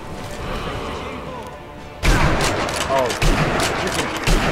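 Gunfire in Sniper Elite V2 crackles as a dense barrage of loud shots and impacts, breaking in suddenly after a quieter stretch, with a voice talking underneath.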